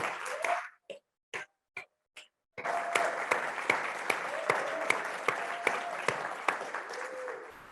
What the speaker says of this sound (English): I just want to give you all a round of applause.